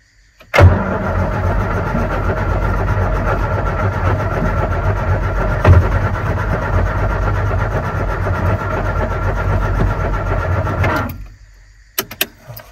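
A carburetted car with the choke pulled is cranked with the key, a loud, steady mechanical whirr lasting about ten seconds before cutting off sharply, followed by a few faint clicks.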